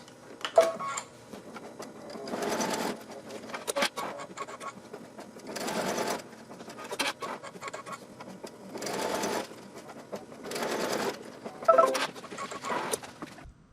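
An embroidery machine stitches little stars in gold metallic thread, rapid mechanical stitching in repeated bursts of a second or so separated by quieter pauses, close and moderately loud.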